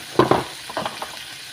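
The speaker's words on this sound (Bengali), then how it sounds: "মশলাগুলোকে আমি একটু ভালো করে কষিয়ে নেব।" Dry spices of turmeric, chili, coriander and cumin fried and stirred with chicken skin in a pan, a few quick scraping stirs over a faint sizzle.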